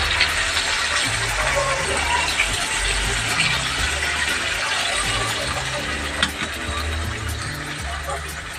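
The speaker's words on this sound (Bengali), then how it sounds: "এবার আমি জলটা দিয়ে দিচ্ছি।" Water pours steadily into a pot of Bengali-style chicken curry with potatoes, a continuous broadband gush lasting several seconds over a low rumbling background.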